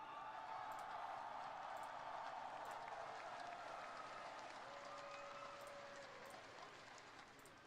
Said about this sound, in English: A round of applause for Chovy